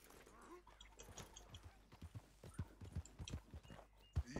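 Horse hooves clop on the ground while riding in Red Dead Redemption 2, a close, rhythmic string of hoofbeats that grows louder and more regular toward the end.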